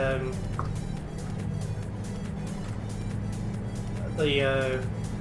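A Volvo FH4 truck engine in Euro Truck Simulator 2, a steady low droning rumble running throughout with a slight swell near the end, under someone talking.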